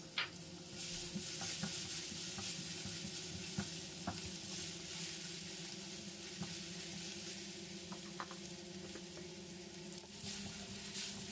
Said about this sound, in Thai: ใส่น้ำมันลงไปครับเดี๋ยวเราจะมาผัดกระเทียมให้หอมกันก่อนเลยครับ